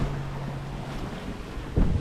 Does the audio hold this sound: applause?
no